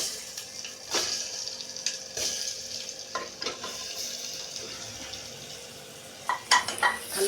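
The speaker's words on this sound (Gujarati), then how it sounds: "હલકી રીતે હલાવી નાખવાના" Vegetables being stirred in a pressure cooker pot with sesame seeds and spices, soft scraping and sizzling in a few separate bursts over a quiet frying hiss.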